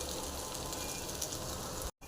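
Egg frying in a pan alongside bajji chillies, a steady soft sizzle and crackle throughout, fairly quiet, cutting out briefly near the end.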